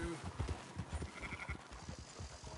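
Horse hooves clip-clop in the Red Dead Redemption 2 video game, a quick run of soft, fairly close hoofbeats in an uneven rhythm.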